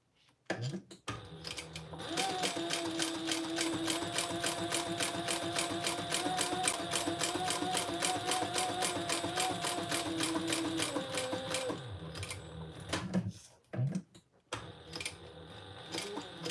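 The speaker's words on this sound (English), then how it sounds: "so I'm going to sew this. Let me sew it up." A sewing machine stitching steadily with a fast, even mechanical whir and rhythmic needle clatter, close and prominent, starting after a brief pause, stopping for a moment near the end, then resuming for a few tiny stitches.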